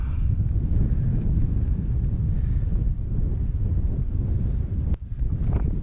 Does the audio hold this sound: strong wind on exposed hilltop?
yes